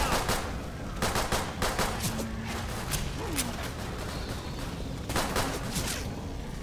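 Rapid bursts of automatic gunfire in the Left 4 Dead 2 Dead Center Christmas level, several sharp volleys separated by short pauses, fairly quiet in the mix.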